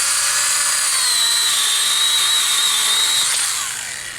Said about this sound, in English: Take your trusty steel power pruning miniature chainsaw.